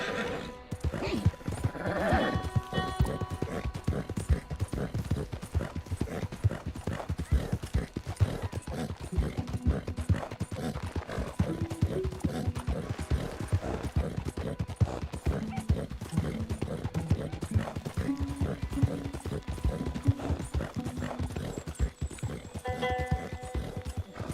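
Horse hooves clip-clop steadily in Red Dead Redemption 2 online play, a continuous rhythmic trotting beat mixed with game music and occasional whinnies, with a voice talking over it at points.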